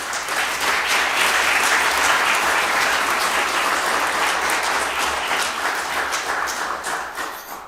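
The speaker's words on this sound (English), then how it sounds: "we applause for this" Sustained applause from an audience at a university lecture in Ukraine fills the room, a loud, dense wash of many hands clapping that holds steady and then tapers off near the end.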